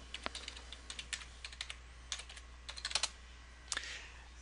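Fingers tap out a command on a computer keyboard while configuring a Cisco network switch, a quick run of light, close keystrokes in small clusters with short pauses between them.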